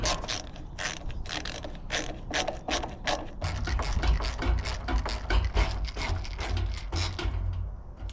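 A Phillips head screw with a washer is driven down into a wooden stand, a close, rapid ratcheting clatter of repeated clicks. It gives way midway to a denser, lower grinding whir as the screw tightens.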